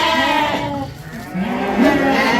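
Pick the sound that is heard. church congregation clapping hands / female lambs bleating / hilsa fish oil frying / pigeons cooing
female lambs bleating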